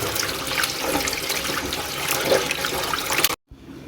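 Prawns rinsed under a running kitchen tap give a loud, steady rush of splashing water that stops abruptly near the end.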